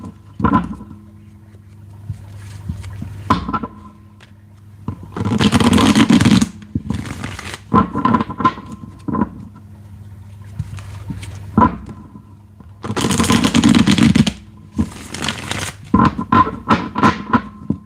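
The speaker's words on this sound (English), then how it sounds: "did I shuffle these cards?" Cards are shuffled in several quick, crisp riffling bursts close by, separated by softer taps, slides and handling sounds.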